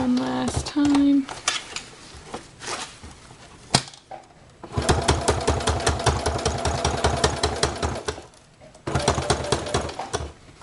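A home sewing machine runs in bursts while stitching a repair around a BumGenius cloth diaper, its fast rhythmic needle clatter starting and stopping with short pauses between runs.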